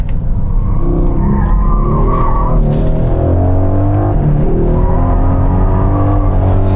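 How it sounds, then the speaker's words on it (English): Mercedes-AMG four-wheel-drive car cornering hard on a mountain road, tires squealing and skidding loudly over the engine's steady roar, up close and continuous. "Even if you would turn off all the electronics, it couldn't corner like this."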